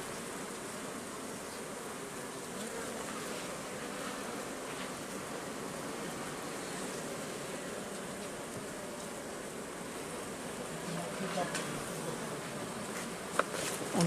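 Buckfast honeybees hum in a dense, steady buzz around an opened hive, heard close and continuously, with a few faint knocks near the end.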